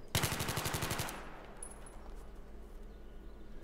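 Gunfire in Battlefield 3 opens with a loud, fast automatic burst of about a second, then fades into a low rumbling ambience with a faint distant tone.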